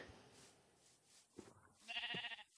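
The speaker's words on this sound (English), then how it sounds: "Brown Sheep!" Short sheep bleats from the Minecraft video game: a brief nasal bleat near the middle and a louder one toward the end, alone over faint background.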